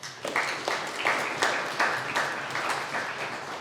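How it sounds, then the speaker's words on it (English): A small group in a workplace meeting room claps for Chris, fairly quiet, individual hand claps distinguishable in a loose, irregular rhythm that tapers off toward the end. "Give Chris a round of applause."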